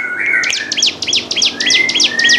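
A caged songbird sings vigorously up close, repeating bright, rapid whistled phrases and chirps in a steady rhythm with no pause.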